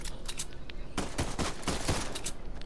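Rapid bursts of video game gunfire crackle in quick succession, a dense volley of shots sounding somewhat distant and steady throughout.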